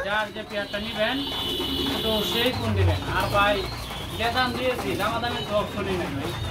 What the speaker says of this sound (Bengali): 20 থেকে 25 জোড়া কবুতর আছে না মাশাআল্লাহ খুবই সুন্দর সুন্দর কবুতরগুলো